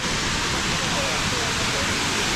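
Kaeng Mongkol waterfall near Luang Prabang, Laos, at the tail of the Kuang Si falls, gives off a steady, dense rushing roar of falling water that stays constant throughout.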